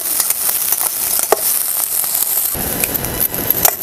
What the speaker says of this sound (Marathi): तसं या पद्धतीने आपल्याला गवारी सुद्धा भाजून घ्यायचं